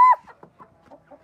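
One loud cluck from a rooster, followed by a run of softer, quick clucks nearby.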